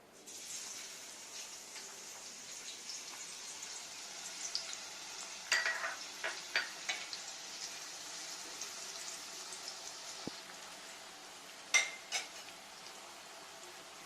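Onions frying in hot oil in a pan for kada chilli chicken, a low continuous sizzle broken by several sharp utensil clinks and scrapes against the pan, quiet and close.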